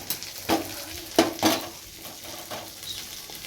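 Brinjal curry with onion, green chili and nigella seeds frying in a pan, soft continuous sizzle broken by a few sharp stirring scrapes of a spatula against the metal, close up with no talk.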